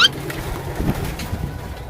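Low, soft cooing of pigeons, a brief murmuring coo heard close over light background noise, with a short sharp sound at the very start.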